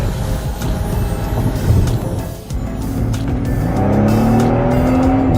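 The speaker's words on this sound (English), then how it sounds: "Damn, wheel spin." A car's tires squeal through a wheel spin as the engine roars loudly and steadily, rising in pitch toward the end, close and continuous with no talking.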